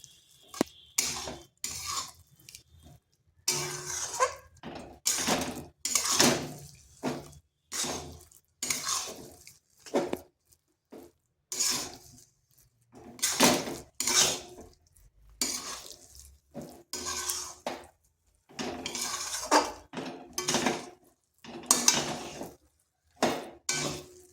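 Semolina dough is stirred and pressed in a pan over a low flame, rhythmic scraping and thudding strokes of a spoon against the pan in steady bursts with short pauses between them.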